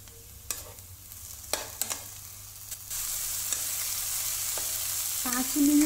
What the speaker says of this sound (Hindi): हमारा ओनियन ब्राउन हो चुका है, हम इसमें डालेंगे टमाटो।